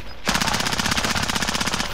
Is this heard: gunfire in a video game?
yes